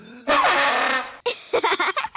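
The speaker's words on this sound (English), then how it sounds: "That's the spal throttle." A spal throttle, a comical cartoon elf instrument, lets out a loud, rough, rasping blare that lasts about a second, followed by brief chattering, voice-like bursts.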